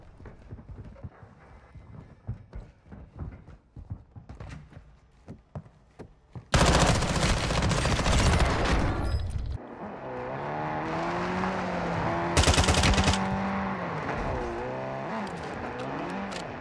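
Machine gun fire from a Call of Duty: Warzone 2 match erupts in loud sustained bursts, first a long heavy volley, then a brief second burst over busy game sounds, with faint talk early on.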